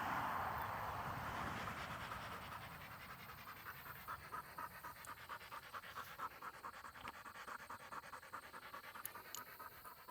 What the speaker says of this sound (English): He's panting pretty hard.